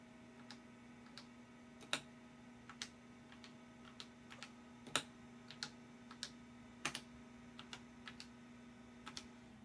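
Keys being typed on a computer keyboard, probably a vintage Apple IIe, in a home room: sparse, irregular clicks with brief pauses, fairly quiet over a steady electrical hum, no voices.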